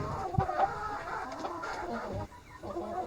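Silkie chickens clucking close by, a busy run of short repeated clucks and soft calls with a brief lull near the end, no talking.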